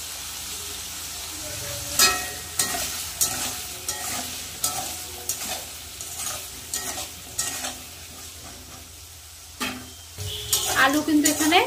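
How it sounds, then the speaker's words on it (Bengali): Potatoes with salt and turmeric fry in a wok, a steady sizzle broken by repeated scraping stirs and clinks of a spatula against the pan, with louder clattering toward the end. "আলু কিন্তু এখানে লাল লাল করে ভেজে নিয়েছি।"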